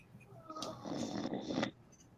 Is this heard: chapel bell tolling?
no